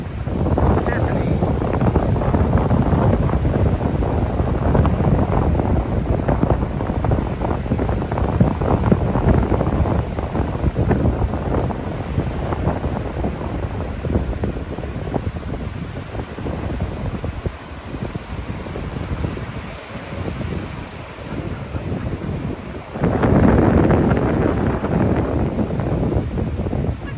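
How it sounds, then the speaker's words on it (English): Strong wind blows across an ocean beach by a beach house at sunset, a loud, continuous roar buffeting the microphone for the whole stretch, with brief voices mixed in. "it's very windy"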